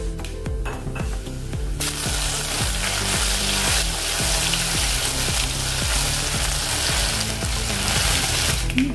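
Mustard seeds and cumin hit hot oil for a radish and radish-leaf sabzi. A quiet start gives way to a loud, steady, close sizzling hiss, with a low rhythmic tonal pattern running beneath.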